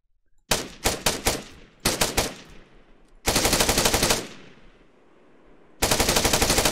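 F-88 rifle fire in the ArmA 3 military game: several short rapid bursts followed by two long sustained automatic volleys, loud and close with trailing echo between bursts, no talking.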